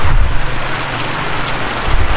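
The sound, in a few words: heavy rain falling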